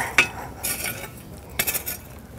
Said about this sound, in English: Put the lid on the Dutch oven.